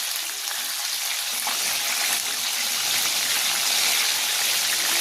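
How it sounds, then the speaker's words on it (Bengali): A Lotte (Bombay duck) fish chop frying in hot oil gives a steady, dense sizzle with bright hiss throughout, close and even, with no talking. "আরও এক পিঠ ভালো করে ভেজে নেব।"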